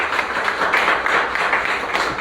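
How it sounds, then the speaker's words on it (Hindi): Steady applause from an audience at an anniversary celebration event, honouring Sarika Sharma; a continuous wash of many hands clapping at even loudness throughout, with no voices on top. "मैं चाहता हूँ एक बार जोरदार तालियां बजा दें उनके लिए"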